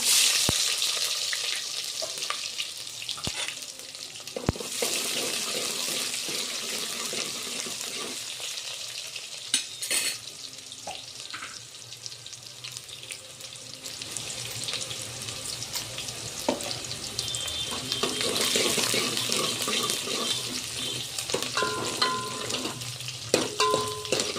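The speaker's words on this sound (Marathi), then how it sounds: "यामध्ये मी राई टाकत आहे 1 चम्मच, 1 चम्मच जिरा टाकत आहे आणि 1 कांदा" Mustard seeds, cumin and onion sizzle steadily in hot oil in a pan while a spoon stirs, making a continuous broadband hiss with occasional sharp pops and clinks, close and fairly loud throughout.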